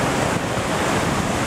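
Ocean waves wash onto Horseshoe Bay Beach in Bermuda as a constant, loud roar of surf mixed with wind buffeting the microphone, and nobody speaks.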